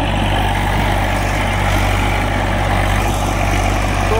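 A 241 tractor engine runs while the tractor works in a field, making a steady, loud, low-pitched drone close by with no talking.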